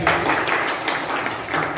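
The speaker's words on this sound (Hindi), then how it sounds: "हम लोग ताली बजाकर उनका स्वागत" A church congregation at a Palm Sunday service claps in welcome for a visitor, a brief burst of steady, rhythmic applause from many hands at moderate loudness.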